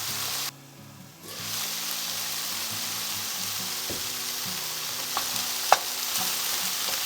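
Continuous sizzling of diced peppers sautéing in a pan, with a few scrapes and clicks of stirring; a short muffled gap near the start.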